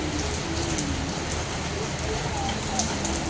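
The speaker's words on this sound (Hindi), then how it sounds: "और अब देखो तेज़ बारिश शुरू हो गई" Heavy rain pours down in a dense, steady hiss, close and unbroken, with scattered drops spattering on surfaces outdoors on a home's surroundings.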